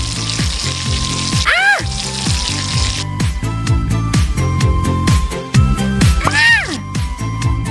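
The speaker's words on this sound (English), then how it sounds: "Wash out all of the dye." Water sprays in a cartoon video game, rinsing dye out of a cat's hair: a soft hissing wash that comes and goes under bright game music with chirpy rising sound effects.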